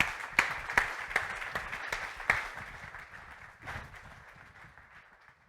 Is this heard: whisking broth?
no